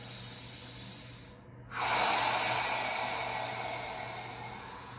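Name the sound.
deep breathing during yoga stretch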